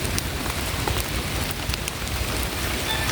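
Steady rain pours down in a dense, even hiss, with scattered drops pattering close by and no voices.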